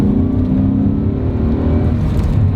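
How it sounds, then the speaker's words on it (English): A BMW E39 M5 engine revs while the car is driving, a loud close-up rising and falling engine note with road noise, no talking. "The engine sounds good."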